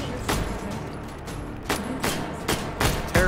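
Gunshots from the VR shooting game H3VR in a practice run, a handful of sharp, separate bursts spread irregularly across a few seconds over low background noise.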